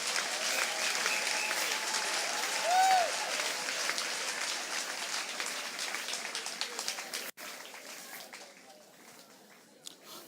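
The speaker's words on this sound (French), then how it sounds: "On acclame la parole de Dieu" A church congregation breaks into sustained, dense applause, loud and even for several seconds before thinning out, with a voice rising faintly over the clapping.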